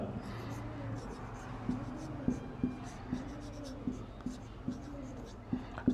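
Chalk or marker writing on a classroom board, a run of short, quiet taps and scratches at a steady rhythm, with soft talk faintly underneath.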